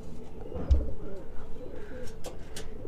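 Pigeon cooing softly beside its nest with freshly laid eggs, a few low coos with light rustling and faint background chirps.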